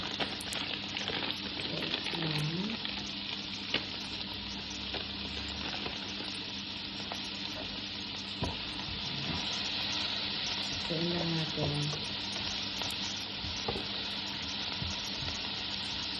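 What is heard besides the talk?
diced chorizo frying in a pan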